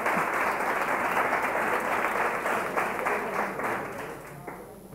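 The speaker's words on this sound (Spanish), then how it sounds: "el aplauso para Cristina, por supuesto." Steady applause from an audience fills the space, a dense wash of clapping hands that holds evenly and tapers slightly toward the end.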